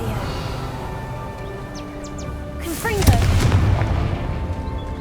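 A Confringo blasting spell goes off in Hogwarts Legacy as a single loud, booming burst that rumbles and fades over steady game music and ambience.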